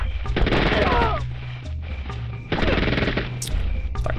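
Rapid automatic gunfire from the PSOne game Spec Ops: Stealth Patrol, two sustained bursts of shooting separated by a short lull, loud and close.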